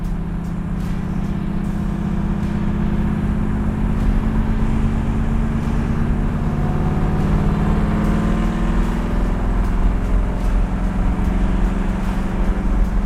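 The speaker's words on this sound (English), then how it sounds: "It really sounds great with the chambered exhaust." A 1969 Camaro Z/28 with chambered exhaust idles in a steady, deep engine rumble at a constant loud level throughout, a low throaty drone with no voices present.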